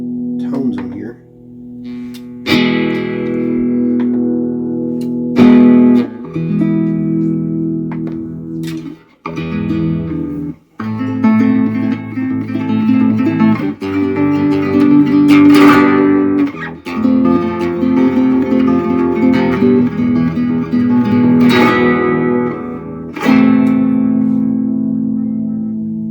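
An Enya NEXG 2N guitar played through its built-in effect tones, loud strummed and plucked chords ringing with heavy reverb and echo, shifting between sounds with brief pauses.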